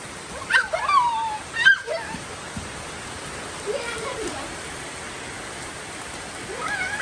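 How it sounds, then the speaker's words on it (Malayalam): Heavy rain falls steadily at a home in rambutan season, a constant hiss of drops on surfaces, while a dog yelps and whimpers a few times early on and children call out in the background. "ഭയങ്കരമായി മഴ പെയ്യാൻ തുടങ്ങി"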